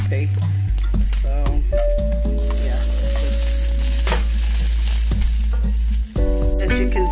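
Sliced courgette frying in oil in a pan, a loud close sizzle mixed with a strong low hum and tonal kitchen noise, plus scraping stirs and occasional clinks.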